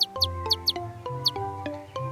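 A cartoon chick gives a series of high, sharp chirps, about six in two seconds, close and clear over soft sustained background music.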